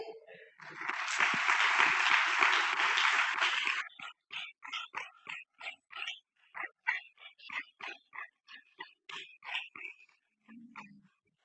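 A church congregation breaks into a brief burst of applause lasting a few seconds, followed by a string of sharp, separate percussive hits at an uneven pace, fairly close and moderately loud.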